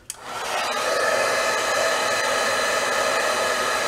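A hair dryer blows steady air across bleached artwork, switching on with a brief click and then running as a loud, continuous whoosh with no talking.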